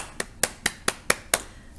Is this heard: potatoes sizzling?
no